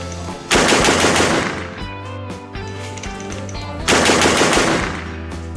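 A Panzer Arms BP-12 semi-automatic shotgun fires Winchester Super-X shells from a short five-round magazine: two loud close booming bursts of rapid shots, with ringing echoes and mechanical clatter between.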